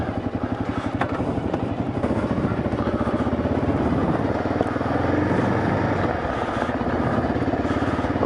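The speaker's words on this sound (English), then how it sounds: "Just out for a bit of a fall run on the KLR." A Kawasaki KLR motorcycle on an autumn ride, its engine running steadily and loud throughout with a continuous pulsing rumble and wind noise, no speech.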